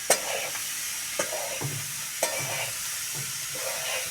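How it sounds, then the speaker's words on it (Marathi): Wild eggplant frying in a pan with onion and chili, a steady sizzle broken by several rhythmic scraping stirs of a spatula, close and alone without talk. "त्यामध्ये आता रानवांगे टाकून हे पण आपल्याला बराच वेळ गरम करायचं आहे"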